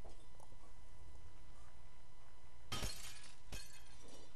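Glass shatters twice in Happy Wheels, a loud crash followed by a shorter breaking burst a moment later, over a faint steady game backdrop with no talk.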